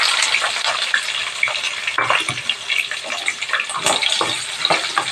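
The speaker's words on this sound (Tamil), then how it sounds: "வெங்காயம் நல்லா வதங்கட்டும்" Finely chopped small shallots sauté in hot oil in a pan, a steady close sizzle broken by the scrape and clatter of stirring, with no voices.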